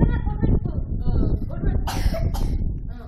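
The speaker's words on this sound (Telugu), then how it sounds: "ఎందుకు దగ్గు?" A person coughs several times in quick, harsh bursts mixed in with background chatter and movement.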